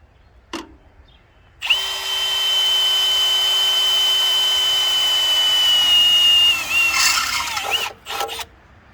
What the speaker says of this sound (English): now get your drill bit, set it in there, about where you want it to be